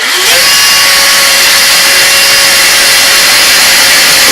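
A power drill bores into wood for a wooden pyramid build, a loud continuous high whine that holds steady throughout with no talking.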